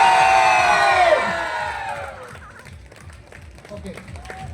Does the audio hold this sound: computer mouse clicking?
no